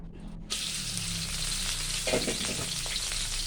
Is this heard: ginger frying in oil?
yes